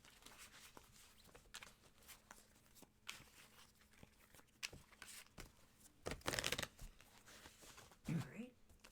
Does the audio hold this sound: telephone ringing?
no